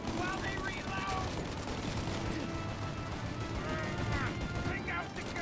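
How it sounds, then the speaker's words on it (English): Gunfire in the video game Mafia Definitive Edition pours out as a dense, continuous rattle of rapid shots. It stays steady and loud throughout, with voices shouting over it. "Shoot the gun! Now, Tommy! While they reload!"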